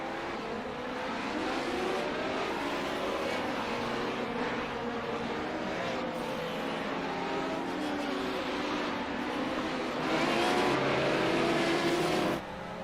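Race cars circle a dirt track, their engines droning and revving continuously at a moderate distance, with a louder surge as cars pass near the end.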